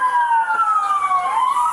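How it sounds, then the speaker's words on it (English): Police sirens wail loudly and steadily, a sweeping tone gliding down and then rising again, close by and alone with no talk. "why they got all these sirens and everything coming for this lady?"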